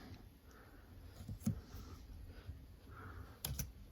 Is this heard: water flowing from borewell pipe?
no